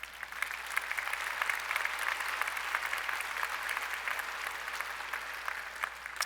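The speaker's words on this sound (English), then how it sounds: "give yourself a round of applause for all that you do to make things better" Sustained applause from a conference audience at the 2019 Oklahoma Summit, steady dense clapping that fills the whole stretch at moderate level with no speech over it.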